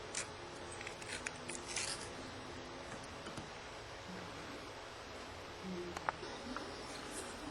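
Scissors snip fly-tying thread close to the hook while a flashback hare's ear fly is tied. The cuts are a few quiet, sharp clicks, heard alone over a soft background hiss.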